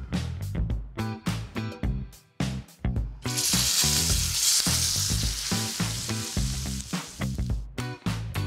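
Pork tenderloin seared in a scorching-hot pan: loud bursts of sizzling hiss, with a sustained roar as the meat hits the metal, amid rhythmic percussive music.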